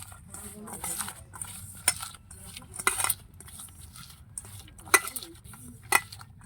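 A spoon clinks and scrapes against a bowl while bamboo shoot pakora batter is mixed with chili and cumin powder, giving quiet, irregular stirring with a few sharper metallic taps.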